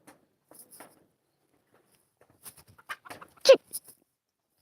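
A rooster at a farmyard lets out a few short clucks, then a single loud, harsh call close by, with quiet gaps in between.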